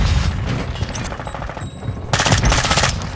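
Rapid automatic gunfire in Call of Duty Modern Warfare 2, close and loud bursts in a dense rattling stream, with a louder burst near the end.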